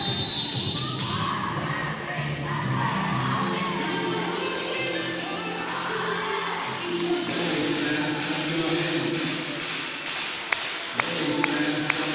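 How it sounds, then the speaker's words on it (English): Crowd noise from the stands at an under-18 girls' volleyball premier final between Munster Thunder and Santry Comet, Santry supporters cheering and shouting steadily throughout, with scattered claps and a few sharp taps near the end. "Santry crowd getting involved."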